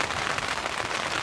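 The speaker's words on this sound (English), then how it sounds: "rain's picking up now" Heavy rain pouring steadily during a thunderstorm at a fishing bivvy, a dense, loud, continuous hiss of drops hammering surfaces nearby, no voices.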